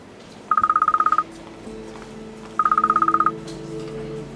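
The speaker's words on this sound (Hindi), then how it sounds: "और खान साहब के फोन पर कॉल आ रही है।" A phone rings in two bursts of fast electronic trills, each lasting under a second, with a low hum between and after them.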